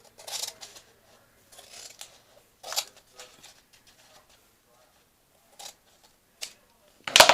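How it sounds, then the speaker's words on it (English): Scissors cut a paper planner page in short, separate snips, close and crisp, with quiet gaps between cuts and a louder final burst. "I'm scared of cutting my page."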